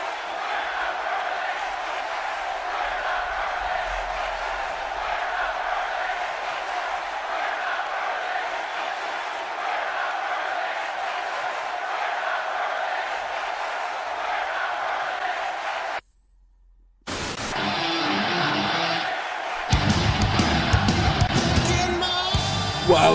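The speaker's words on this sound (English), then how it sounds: "And you can hear this crowd. They've blown the roof off of this place." A wrestling arena crowd in WWE 2K18 roars in a sustained wall of cheering, drops out to silence briefly, then returns with louder music and commentary mixed over the noise.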